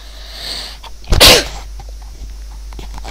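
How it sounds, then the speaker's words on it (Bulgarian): A single loud, close sneeze from a man who has a cold bursts out over faint room hiss, followed by quiet. "Извинете ме така. Малко кихам."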